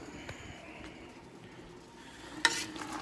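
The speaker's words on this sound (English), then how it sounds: "So now let's stir that baby up." Food being stirred in a hot pan, with soft scraping and a low sizzle under the motion, then a louder clatter and burst of sizzling near the end.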